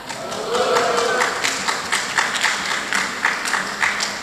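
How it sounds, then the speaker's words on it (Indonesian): An audience at a Prudential insurance agency business presentation gives moderately loud, steady applause with clustered claps for about four seconds, faint voices mixed in. "Itu kayaknya yang tepuk tangan paling kenceng agency manager deh"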